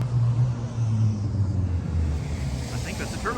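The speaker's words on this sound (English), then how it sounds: "I think that's a turbo Miata." A turbocharged Mazda Miata at a cars and coffee meet, its engine a loud, steady rumble with wind buffeting the microphone.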